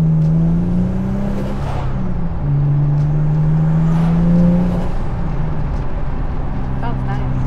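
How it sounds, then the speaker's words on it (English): A turbocharged V6 Honda with an external wastegate drives loud and close, its engine droning and rising in pitch with turbo whooshes over the top, while people talk over it. "You're either going to love or hate the external wastegate."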